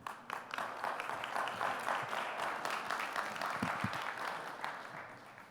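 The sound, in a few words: audience applause for a conference speaker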